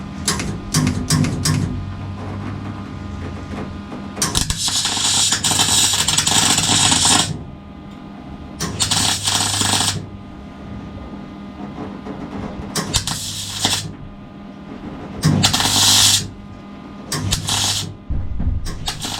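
A welder tacks a floor crossmember into an Austin Mini, with repeated crackling, buzzing bursts of a few seconds each separated by quieter pauses, close and loud throughout.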